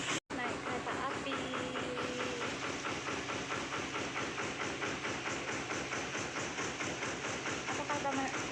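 A tourist train rolls through a deer park with a steady rhythmic clatter and hissing rumble, loud and continuous, while voices chatter faintly in the background.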